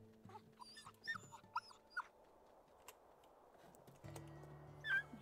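Wolf puppies in the video game WolfQuest make faint, high, wavering whimpers and whines in short scattered bursts, with a low steady hum joining partway through.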